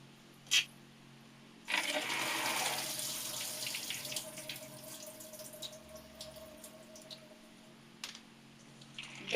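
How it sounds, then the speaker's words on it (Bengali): Water drained off chana dal that has soaked for hours, a sudden steady pour and trickle into a sink that tapers to drips, with a single sharp clink near the start and near the end. "আমি জল ঝরে নিচ্ছি।"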